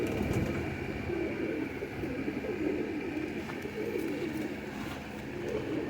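Low, soft cooing of dab breed pigeons murmurs steadily throughout, a continuous layered burble with no talking.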